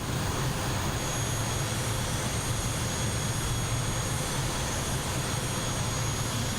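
Just Flight Hawk T1 jet taxiing at Valley in Microsoft Flight Simulator 2024, a steady, unbroken jet engine roar with a constant high whine, moderately loud and close, with no other sounds over it.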